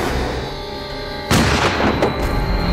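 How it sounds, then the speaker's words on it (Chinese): A film scene set in the early years after liberation has a sudden loud gunshot blast cut sharply over a low background drone, followed by a couple of fainter, quicker cracks. "这里有人开枪。"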